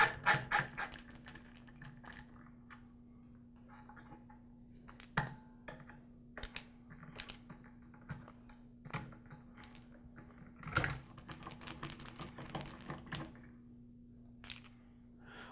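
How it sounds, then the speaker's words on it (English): Screws being backed out of the cord clamp and handle on a DeWALT DW703 miter saw, with scattered close tool clicks, ratcheting ticks and small metallic taps over a steady low hum, no talking. "Now I'll remove the two screws on the cord clamp, as well as the last screw that secures the handle to the saw body."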